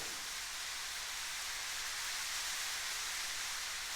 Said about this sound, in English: it's raining, I hope it's not too much noise.